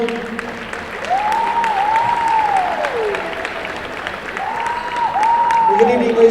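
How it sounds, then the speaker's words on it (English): Applause from a crowd in a high school gymnasium before a boys basketball game, steady clapping filling the space at moderate volume while an announcer's voice carries over it on the PA. "Once again, a big round of applause,"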